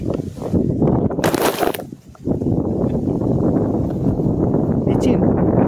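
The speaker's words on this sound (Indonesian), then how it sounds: "Angin." Strong wind roars across the microphone on Mount Manglayang, a loud continuous buffeting rush that dips briefly and then surges back, with a person speaking underneath.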